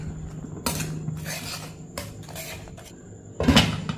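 Chutney is stirred in a pan with a spoon: several bursts of metallic scraping and clatter, the final stroke loudest and closest, with short quiet gaps and no speech.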